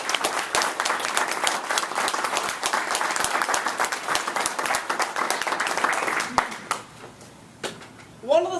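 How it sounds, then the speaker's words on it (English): Applause at a Toastmasters club open house as members are honoured: many sharp, distinct hand claps from a small room audience, lively and close, stopping near the end, followed by a brief voice. "Let's give them a big round of applause."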